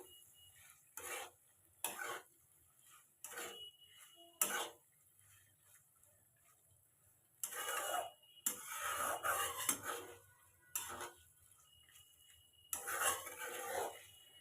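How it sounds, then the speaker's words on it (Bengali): Fried potatoes and pointed gourd being stirred into spices in a pan, with a series of short scraping, clattering bursts of spoon against metal separated by quiet pauses, fairly close and without talk. "মশলার সাথে আলু আর পটলগুলো ভালোভাবে মিশিয়ে নিব।"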